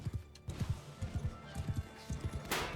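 Horse hooves galloping in Mount & Blade II: Bannerlord, quick rhythmic clip-clop beats in repeated clusters at moderate volume, with a brief brighter whoosh near the end.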